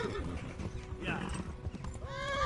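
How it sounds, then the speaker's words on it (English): Horse hooves clip-clop at a gallop in the medieval game Kingdom Come: Deliverance, with a clear neigh and whinny near the end; someone talks over much of it. "Run, stupid horse."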